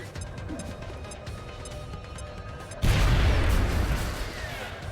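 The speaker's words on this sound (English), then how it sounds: "Grenade out." A grenade goes off in the XCOM Long War video game. A low, quiet ambience gives way to a sudden loud, deep blast, and a broad roaring rumble follows for a couple of seconds.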